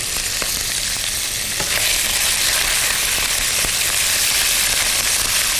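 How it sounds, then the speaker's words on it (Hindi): Boneless chicken pieces fry in hot cooking oil, a loud, dense, continuous crackling sizzle close up, with no pauses. "चिकन को इसमें फ्राई करेंगे।"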